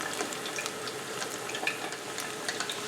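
Chicken pieces for Panda Express-style orange chicken sizzle in hot oil, a steady close hiss scattered with small crackles and pops throughout, with no voices.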